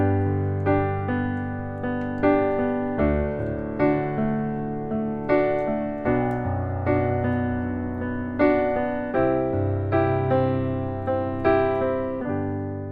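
Solo pop piano plays a steady chord rhythm pattern, with bass notes below and broken small arpeggios in the right hand repeating in even pulses, clear and close with no talking.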